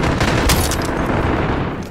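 Sustained machine gun fire in the video game Call of Duty Modern Warfare, a loud, dense continuous burst of rapid shots filling the whole stretch with no pauses.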